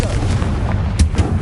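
Fiery blast spells cast in Hogwarts Legacy, a couple of short punchy bursts over a dense rumbling game backdrop, heard mid-battle with no talk.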